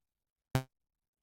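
A single short synthesizer stab set to 25% decay, starting sharply and fading out quickly within a fraction of a second, loud and isolated against silence.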